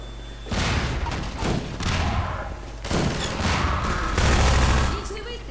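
Repeated bursts of gunfire in Half-Life 2: Episode One, loud volleys of shots and thuds arriving in several waves, with a voice speaking between them.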